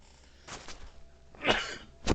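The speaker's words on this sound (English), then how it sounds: "I'm going to sneeze now." A few short breathy bursts build to a sharp sneeze and a final quick expulsion, close and fairly quiet, with no talking.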